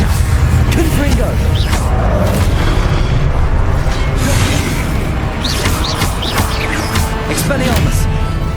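Repeated Confringo fire-blast spells in the Hogwarts Legacy game, with dense booming explosions under a shouting voice calling spells over constant battle noise.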